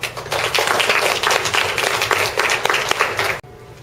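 Elementary school audience applauding together, a dense burst of many hands clapping for about three seconds before cutting off abruptly.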